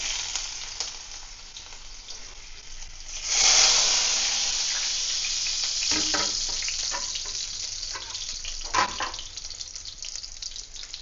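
Finely chopped ginger dropped into hot oil in a pan while cooking Tamil pepper pongal, giving a steady close sizzle that swells sharply as it hits the oil and keeps frying with soft crackles.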